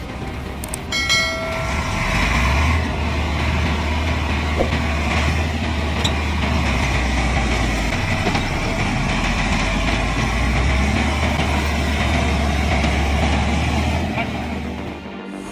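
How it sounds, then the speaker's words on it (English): A heavy 6-cylinder truck loaded with acacia wood labors along a muddy, slippery road, its engine a loud, steady, deep rumble with grinding noise throughout. "A powerful 6-cylinder vehicle, loaded with acacia wood, rushing on muddy, slippery, and challenging roads."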